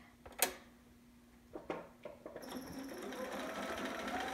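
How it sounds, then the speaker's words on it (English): A domestic sewing machine stitches a single layer of fabric forward and then backstitches. A few close clicks and knocks come first, then a steady, close mechanical whirr runs continuously to the end. "And put it right up in your sewing machine."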